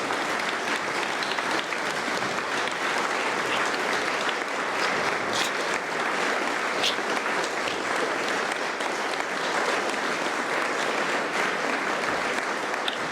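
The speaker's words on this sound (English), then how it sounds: "So thank you for that applause," Audience applause at a book launch event, a steady, even wash of clapping from a seated crowd lasting about thirteen seconds, moderately soft with no talk.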